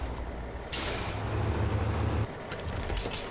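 Truck reversing through mud in SnowRunner, set in Alaska: a sharp air-brake hiss bursts out, a low engine drone holds underneath, and a few clanks and clicks follow near the end.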